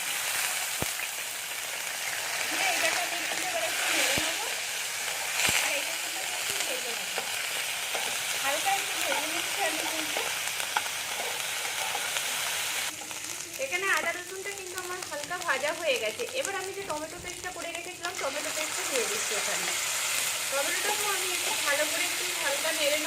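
Cumin seeds and ginger-garlic paste fry in hot oil with a steady, dense sizzle and stirring scrapes throughout, while a voice talks partway through.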